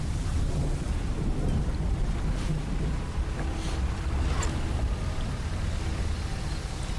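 A thunderstorm at sea in the fishing horror game Dredge: a constant heavy roar of wind and rain with low rumbling thunder, choppy water around a small boat, and no talking.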